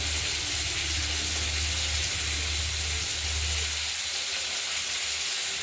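Steady, loud sizzling and hissing of badi and eggs frying in oil in a pan, a continuous close crackle with no pauses and a low hum underneath.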